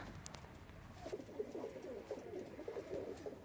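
Pigeons in a loft give soft, repeated cooing calls in a quiet rhythm, faint and fairly close, with low background noise and no talking.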